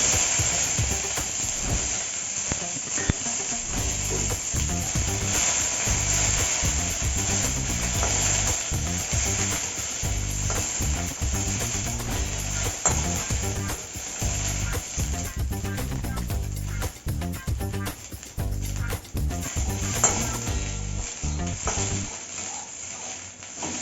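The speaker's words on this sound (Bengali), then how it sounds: "এই কাজু বাদাম আর কিশমিশ এটা ঘিয়ের মধ্যে ভেজে নেব" Cashews and raisins fry in hot ghee for a lemon-gourd kheer, a steady dense sizzle that runs continuously and loud with occasional stirring, no voices over it.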